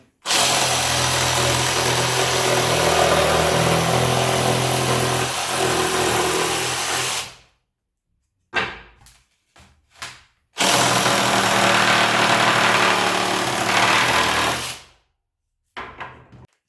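Parkside PSSSA 20-Li A1 cordless jigsaw cutting wood, loud close buzzing whir in two long cutting runs separated by short bursts and brief pauses.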